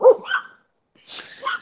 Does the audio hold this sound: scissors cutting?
no